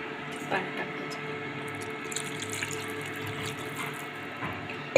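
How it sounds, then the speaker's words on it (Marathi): Water is poured into a simmering drumstick (moringa pod) curry on the stove, giving a steady splashing pour with a few drips, heard close and fairly soft while someone talks over it. "पाणी टाकायचं."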